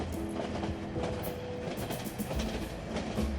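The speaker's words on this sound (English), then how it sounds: "I can't stop that train." A train passes in the video game 3 Minutes to Midnight, producing a steady, close rumble with rhythmic clickety-clack of wheels on rails for the whole stretch, with no voices.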